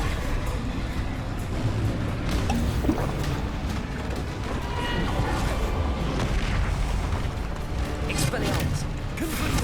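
Bombarda blasting spell explosions and battle effects in Hogwarts Legacy, a dense, continuous roar of booms and crashes under shouted spell calls.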